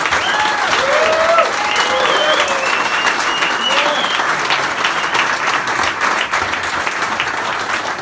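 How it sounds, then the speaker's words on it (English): An audience at a talk by Irish cyclist Sean Kelly on a Mizen to Malin challenge applauds steadily for several seconds, a sustained round of clapping with a few voices and cheers mixed in. "Can you give Sean a big round of applause?"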